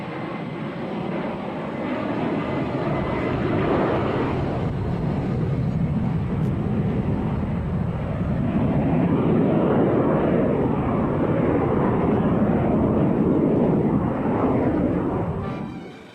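A de Havilland Vampire jet flies past at a seaside airshow, its broad roaring whoosh swelling and fading in long waves as it passes overhead, loud and continuous.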